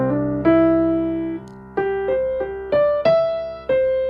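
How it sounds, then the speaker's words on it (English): Gospel-style piano arpeggio on a few notes, played without the sustain pedal so each note is clipped short; about eight distinct notes stepping up and down at a moderate pace, clear and close with no talk. "without the sustain pedal, it would sound like this"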